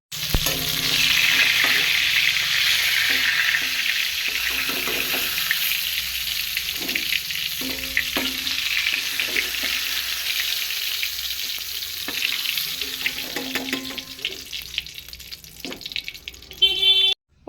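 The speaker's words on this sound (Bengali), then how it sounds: "পটলটা ভাজা হয়ে গেছে" Pointed gourd pieces fry in hot oil in a pan, giving a loud, steady sizzle that holds for the whole stretch, with a few soft knocks of a utensil.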